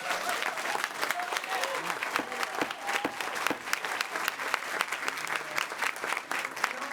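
Sustained applause from a crowd at a Wilson County, Tennessee commission meeting, dense and steady clapping filling the room for several seconds with no break.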